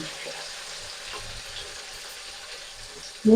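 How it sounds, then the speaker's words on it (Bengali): Beans with turmeric and salt are stirred in a frying pan, a soft, close sizzle with light scraping and shuffling throughout, ending in a brief louder knock. "চিনগুলোকে আবারও ভালো করে নেড়ে দেবো"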